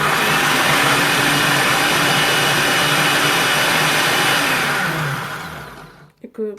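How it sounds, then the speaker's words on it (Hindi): An electric grinder runs with lemon juice added while making garlic sauce for chicken shawarma, giving a loud, steady whirring roar that then winds down and stops, followed by a few brief knocks. "अब इसको मशीन को चलाते हैं हम। मशीन को मैं ऑन कर"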